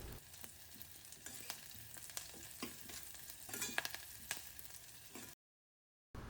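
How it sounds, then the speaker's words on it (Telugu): Onion, green chilli and curry leaves fry in a pan with a continuous close sizzle, punctuated by scraping stir strokes, before a brief cut to silence. "ఉల్లిపాయ, పచ్చిమిర్చి 2 బాగా ఫ్రై అయ్యాక కరివేపాకు వేసి ఫ్రై చేసుకోవాలి."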